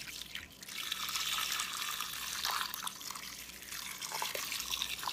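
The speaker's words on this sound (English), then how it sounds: "I'm going to add enough cider vinegar to cover the onions" Cider vinegar is poured over sliced onions in a slow cooker, a steady close splash and trickle of liquid with no talking.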